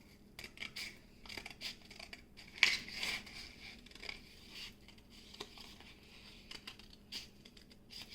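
Scissors cutting paper for a paper roll craft, a run of close, irregular snips and crisp clicks with soft rustling between them, no talking.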